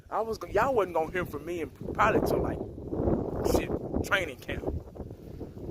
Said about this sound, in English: It's windy as hell out here. Sorry about the wind